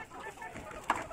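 Hens at a hatchery cluck quietly while being fed fresh grass from trays, with one brief, slightly louder cluck standing out near the end against soft background noise.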